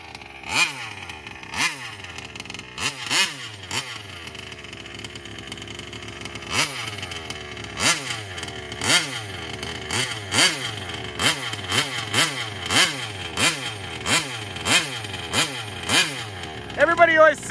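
A 35cc Taylor Reed engine in a Kraken Vesla RC car revs loudly and close, its sharp repeated throttle blips rising and falling over a steady buzzing idle.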